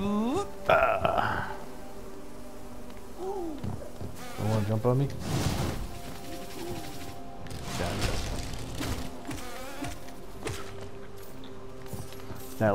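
Droning bee buzzes from a boss fight in the Hollow Knight video game rise and fall under game music and hit sounds, while someone comments at moderate volume.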